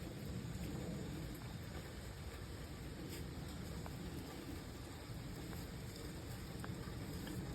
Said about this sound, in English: It's fun climbing the sand in the rain.